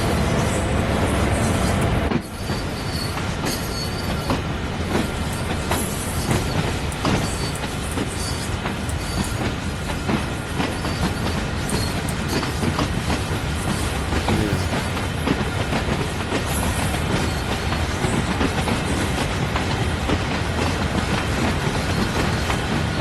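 A train rolls along at night in Train Sim World 5 near Johnstown, Pennsylvania, with a loud, continuous rumble, steady clickety-clack of wheels on rail and occasional squeals, and no talk.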